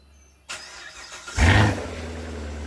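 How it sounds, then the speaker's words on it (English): A Chevrolet Corvette C7 Stingray cold-starting: quiet low hum, then a sudden starter catch at half a second, building to a loud rev flare that settles into a steady, throaty idle, close to the car with no talking. "let's get a little bit of a cold start"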